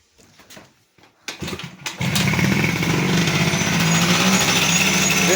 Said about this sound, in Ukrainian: мені подобається, як воно запускається